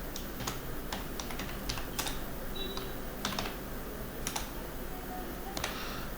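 Someone types on a computer keyboard while writing a resume in MS Word: quick, uneven bursts of light key taps over a low, steady background hum, close and with no talking.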